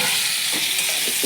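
Potato and pointed gourd sauté in hot oil in a pan, a continuous close sizzle with faint scraping stirs and no voices.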